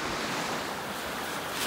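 Ocean surf washes onto the shore in a continuous loud roar of breaking waves, with wind buffeting the microphone throughout.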